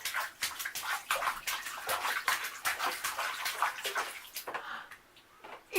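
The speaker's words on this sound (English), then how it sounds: "He splashes and splashes." A baby splashes water in a bathtub at bath time, a rapid run of close, uneven slaps and sloshes that fades near the end.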